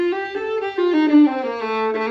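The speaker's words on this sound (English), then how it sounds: "Locrian steps sounds like this." Violin slowly playing a Locrian mode scale, a few sustained bowed notes stepping down in pitch, clear and close with no talking.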